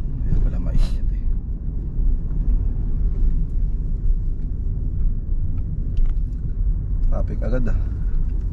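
Road traffic rumbles steadily around a vehicle driving near Bayombong in Nueva Vizcaya, a low continuous drone of engines with occasional brief clicks and passing sounds.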